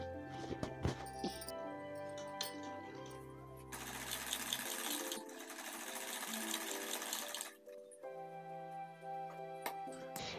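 Sewing machine stitching the neckline of a ladies' suit, its motor running in bursts of rapid whirring with brief pauses and clicks between runs, close and fairly quiet, with no talk.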